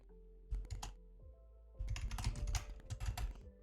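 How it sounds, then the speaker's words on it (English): Quiet typing on a computer keyboard, two short bursts of rapid key clicks separated by a pause, faint and close with a low steady hum underneath. "If you hear typing in the background,"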